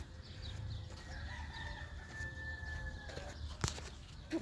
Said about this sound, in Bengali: মোরগের ডাক শুনলে মনে হয় যেমন দেশে আছি।